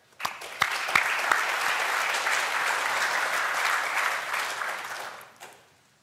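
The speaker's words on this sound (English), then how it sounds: "So round of applause for Steve and Velocity for setting this up," Audience applause at a web performance conference talk, a steady wash of clapping with a few sharp near claps at the start, fading out after about five seconds.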